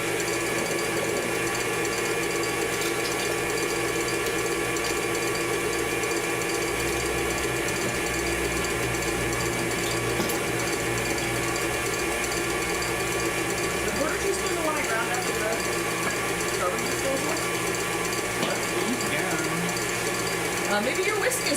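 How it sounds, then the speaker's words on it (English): A whisk set on high speed beats egg whites with sugar and cream of tartar in a continuous, even mechanical whir that stays close and loud, with no pauses, for the whole stretch. "we're beating these until foamy"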